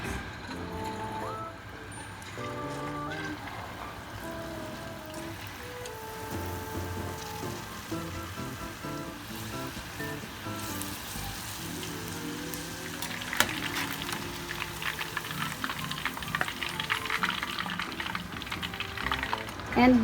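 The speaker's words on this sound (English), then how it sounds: "And let's heat up the cooking oil. Now let's cook the shrimp." Shrimp frying in hot cooking oil give off a steady crackling sizzle that lasts throughout and grows a little busier toward the end.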